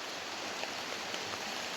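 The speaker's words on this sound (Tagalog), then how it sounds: "Kasi palaging umuulan ngayon dito." Rain falls outdoors as a steady, even hiss of dense drops, faint and continuous with no voices over it.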